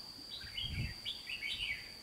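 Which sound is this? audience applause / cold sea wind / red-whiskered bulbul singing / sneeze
red-whiskered bulbul singing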